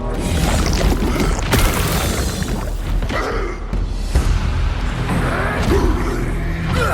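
A dense, continuous roar of video game explosions and booming magic blasts from the game No Rest for the Wicked, loud throughout with sharp bursts layered over a rumbling low end.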